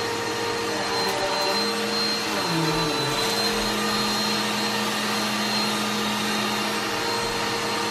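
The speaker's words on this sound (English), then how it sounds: "Emma is going to vacuum up all of these little snacks" A vacuum cleaner drones loudly and steadily throughout, sucking up small snacks from the floor, its motor pitch dipping briefly midway as if the nozzle catches something.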